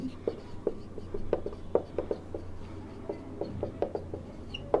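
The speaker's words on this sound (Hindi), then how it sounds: "तो मैं लिखता हूँ स्पेसिफिक ग्रेविटी" Chalk or marker tapping and scratching on a board during a lecture, a string of short, close strokes in an uneven rhythm, one letter after another, with no talk.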